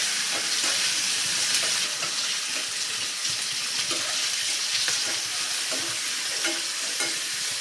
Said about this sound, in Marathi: आलं लसूण हिरवी मिरचीचा ठेचा घालून घेऊयात कांद्यासोबत परतून घेऊयात